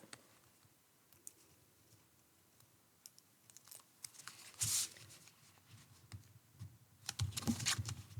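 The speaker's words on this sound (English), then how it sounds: "take the cover off the tape" Backing strip peeled off double-sided tape while assembling a paper bandstand card: two short, crackly tearing bursts, the second longer, against a quiet room.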